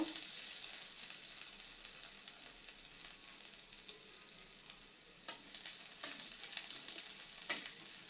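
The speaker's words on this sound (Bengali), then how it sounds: "আদা থেতো করা, একটু নেড়ে চেড়ে নিব।" Crushed ginger and garlic frying in oil in a pan while being stirred, a soft steady sizzle with occasional sharp scrapes and clicks of the utensil, quiet and close.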